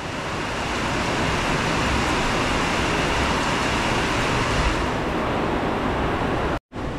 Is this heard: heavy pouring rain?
yes